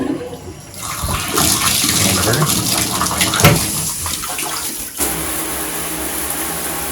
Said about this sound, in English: look at the efficient flow or outflow stream of all of the water